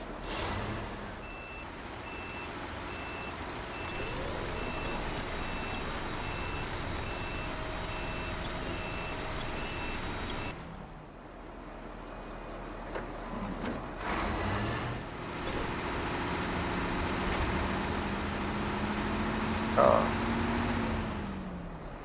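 A heavy machine with hydraulic steering manoeuvring near a rock, a steady loud engine drone with a rhythmic reversing beep and shifting mechanical tones, while someone talks throughout.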